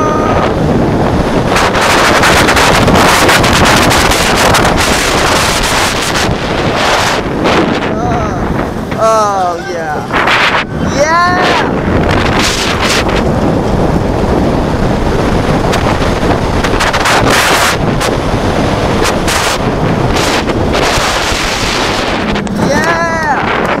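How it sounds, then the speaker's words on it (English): Heavy wind buffeting the microphone on the Kingda Ka roller coaster, a loud, continuous roaring rush throughout, with riders screaming and shouting over it. "It's very windy. That's extremely windy."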